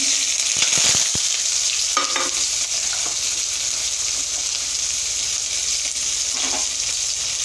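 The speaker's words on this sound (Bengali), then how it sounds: "পেঁয়াজ রসুনটাকে একটু ভেজে নেব।" Onion and garlic frying in hot oil in a pan, a steady close sizzle with a few brief stirring clinks near the start.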